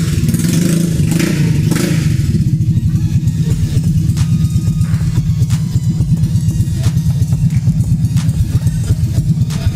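A custom Cub-based motorcycle engine runs loudly and close, a fast, steady mechanical clatter and rumble that holds throughout with no talking.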